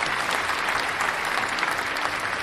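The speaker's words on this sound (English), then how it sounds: "Applaud us." A steady wash of audience applause, even and continuous throughout, fairly soft as if heard from a distance, with no voices standing out.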